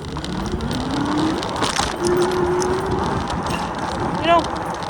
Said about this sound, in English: today, we're going to be riding down it on an electric bike. Or on a Rid Star Q20.